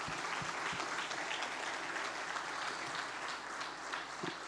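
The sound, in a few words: congregation applauding the word of God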